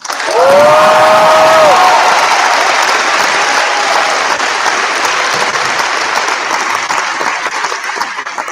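An audience at a high school senior awards night applauds loudly for the valedictorian, a dense sustained wash of clapping with a few whoops and cheers at the start, holding steady throughout.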